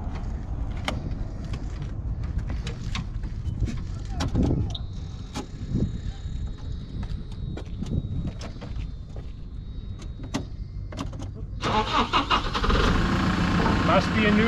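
A JCB 509-42 9,000 lb diesel telehandler engine cranks and catches, settling into a loud, rough, close idle under a voice, with a few mechanical clicks and a high whine partway through.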